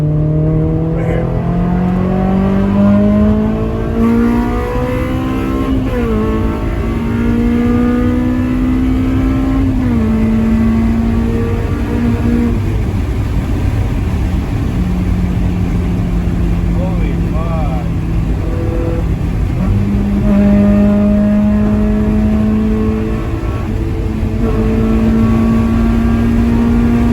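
Straight-piped Honda S2000 revving its engine up and down in a raspy, droning rise and fall, sustained and close, with voices occasionally around it.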